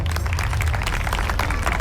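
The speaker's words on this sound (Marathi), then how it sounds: "त्यांच्यासाठी एकदा जोरदार टाळ्या." An audience at a Bhim Jayanti stage gathering claps for a municipal council president: a short, dense burst of crowd applause, steady and fairly loud throughout.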